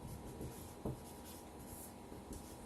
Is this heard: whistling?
no